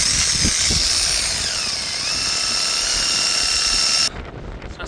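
Three T30 bolts being driven in on a turbo boost position part of a VW Golf 2.0 TDI, a steady whining power-tool drone with shifting pitch that runs loud and close, then cuts off abruptly near the end.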